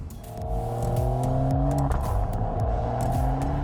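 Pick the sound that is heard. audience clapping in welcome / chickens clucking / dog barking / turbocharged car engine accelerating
turbocharged car engine accelerating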